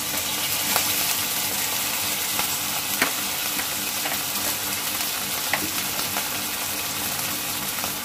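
Tomato pieces fry in a pan for corn pulao, giving a steady, close hiss of sizzling oil across the whole stretch, broken by a few sharp clicks and scrapes of stirring, with no voices.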